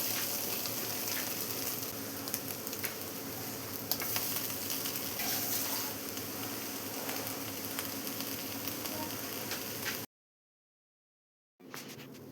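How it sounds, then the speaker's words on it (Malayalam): Green peas being stirred into frying egg masala in a pan, with a steady close sizzle and soft stirring scrapes that cut off abruptly near the end before resuming briefly. "ഇനി നമുക്ക് ഗ്രീൻ പീസും എഗ്ഗും മസാലകളും എല്ലാം കൂടെ നന്നായി തന്നെ ഒന്ന് മിക്സ് ചെയ്തെടുക്കാം"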